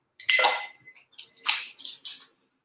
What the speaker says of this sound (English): Got a few ice cubes.